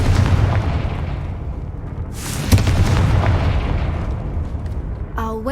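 Confringo fire spell cast in Hogwarts Legacy, a sudden burst around the middle that rises out of a steady rumbling game background, followed by a brief sharp crackle near the end.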